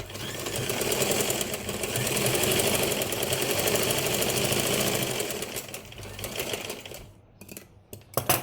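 A sewing machine stitches a fabric hand pouch with a close, steady rapid whirr and clatter for about six seconds, then slows and stops, leaving a few handling clicks.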